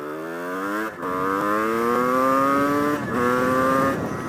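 Motorcycle engine pulling hard with the clutch in, in traffic, rising through gears with three climbing whines broken by brief dips at each shift, loud and close, with no talk.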